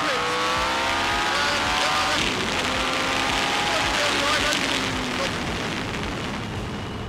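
A Tyrrell P34 six-wheeled Formula 1 car at speed, its engine note loud and continuous with falling pitch sweeps as the rear tyres lock under braking, a faint squeal mixed into the roar; talk is heard under the engine.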